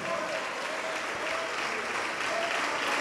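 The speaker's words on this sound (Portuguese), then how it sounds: "Vamos aplaudir mais ao nome do Senhor." Church congregation clapping steadily throughout, a dense continuous wash of applause filling the room at moderate distance, with no clear voices standing out.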